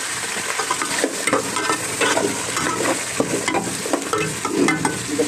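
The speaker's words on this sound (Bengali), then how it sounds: "তেলের মধ্যে একটু 5 মিনিট কষাই নিব আমি এটা" Rui fish and spices sauté in hot oil in a pan, a dense continuous sizzle with frequent scraping stirring strokes, close and fairly loud, with no talking.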